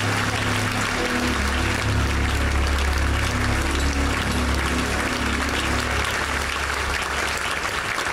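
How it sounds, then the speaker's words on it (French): A church congregation at a French-language Easter festival service applauds and cheers steadily, a dense, sustained wash of clapping with a low hum beneath it. "On acclame encore le Seigneur."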